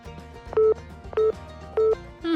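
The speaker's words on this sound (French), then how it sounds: "Je vais l'appeler tout de suite." Telephone ringback tone on a call, with four repeated steady tone bursts at regular intervals over a low background hum.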